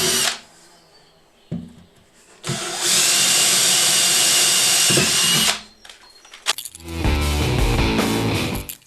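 Power drill driving M8 screws to mount a handle over a steel boss, with short bursts, then a long loud sustained whir for several seconds, a pause, and a final rough, rattling run.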